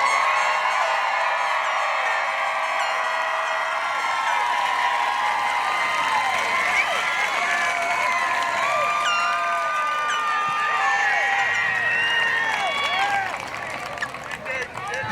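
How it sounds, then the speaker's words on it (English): A graduation crowd celebrates the class of 2020 with sustained clapping, cheering and high whoops layered over a dense applause wash, fading toward the end. "Clap it up."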